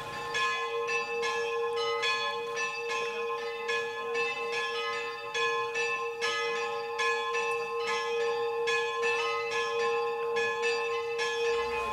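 Church bells ring continuously, clanging strikes layered over a rich sustained metallic hum, loud and steady throughout with no voices.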